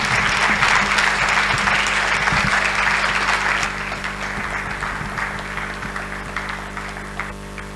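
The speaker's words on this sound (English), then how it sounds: "please put your hands together and give a warm round of applause to Abdul Nur Mohammed" Audience applause at the Africa Media Festival: dense, sustained clapping from a large crowd, loud for the first few seconds and then easing to a steadier, somewhat softer ovation that carries on throughout.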